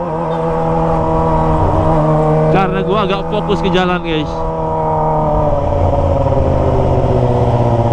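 A Kawasaki ZX25R motorcycle fitted with a Toce exhaust revs hard in a brief high-pitched rising burst on a wet road, over steady engine drone and wind, while a rider talks.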